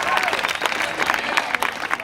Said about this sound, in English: the house band who's back there, please, a round of applause.